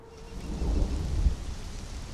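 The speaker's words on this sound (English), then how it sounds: "Sorry if the rain sound effects kind of drown my voice out a little bit." Steady rain pours in the game Conan Exiles, a dense, even hiss with a low rumble swelling near the middle, continuous and fairly close throughout.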